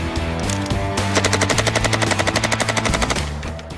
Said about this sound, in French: Ça nous fait un total de 100 balles à tester avec l'Uzi.